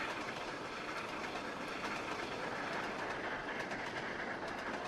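A steam train in the Trainz: A New Era simulation on the Settle and Carlisle route rolls with a constant broadband rumble and a faint rhythmic clatter of wheels, steady and moderately loud throughout.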